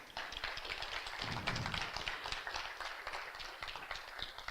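An audience at a talk claps for the speaker's teachers, a faint, distant patter of many hands that holds fairly steady for several seconds, heard alone without voices.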